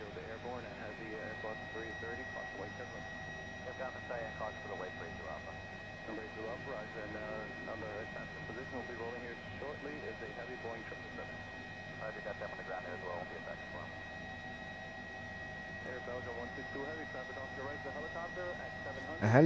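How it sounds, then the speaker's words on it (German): An Airbus H135 helicopter flies steadily in a simulated safari setting, its engine and rotor drone holding evenly throughout at moderate level with no break. "Ein Helikopter!"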